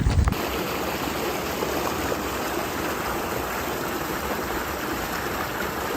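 A stream rushes steadily nearby, a continuous, full gush of flowing water with no voices.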